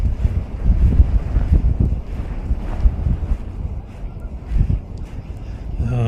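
Strong gusting wind on a lakeshore during trout fishing, buffeting the microphone in loud low roaring bursts that rise and fall throughout.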